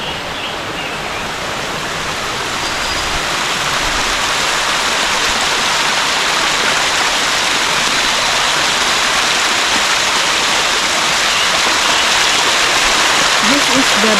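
Loud, steady rushing of water pouring down Ng Tung Chai Waterfalls in Hong Kong, a dense continuous roar that swells slightly at first and then holds constant.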